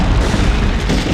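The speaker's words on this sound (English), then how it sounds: "let's go ahead and toss a friendly little grenade in" A grenade blast in the PS1 game Medal of Honor, a single short, low boom with a dull rumbling tail that fills the whole moment without any other sounds.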